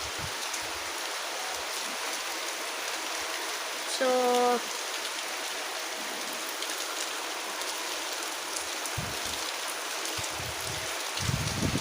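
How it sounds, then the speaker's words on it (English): Heavy rain falls in a steady, close hiss that fills the whole stretch, with a brief tonal beep partway through and a few faint low knocks near the end; a voice speaks once briefly. "I just wanted to show you guys this rain"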